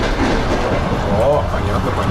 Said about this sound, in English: This is Platzkart on a Russian train, dormitory